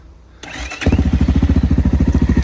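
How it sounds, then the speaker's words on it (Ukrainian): Engine of a 2007 Volvo FH13 truck cranking and starting, a short whirring crank that catches into a loud, close, steady rhythmic diesel idle thudding in even pulses. "Заглушений був на другій передачі і заводимо."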